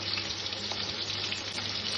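Green chillies frying in hot oil in a pan alongside already crisped ingredients, a steady close sizzle and crackle with a faint watery hiss and no voices.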